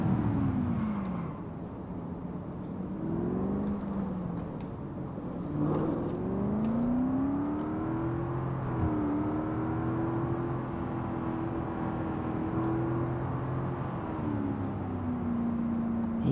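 A new car in the Construction Simulator 22 video game revs its engine in long rising and falling sweeps, a smooth synthetic motor whine that continues steadily without talk.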